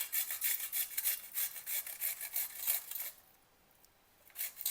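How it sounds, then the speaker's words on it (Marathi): Cucumber grated by hand for besan chilla, a close, steady run of rhythmic rasping strokes that stops for about a second before resuming. "आता आपण काकडी किसून घेऊया"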